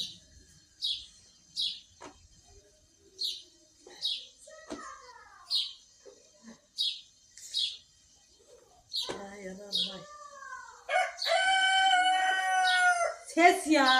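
A rooster crows nearby amid repeated sharp chirps and scattered bird calls, with a voice briefly talking toward the end.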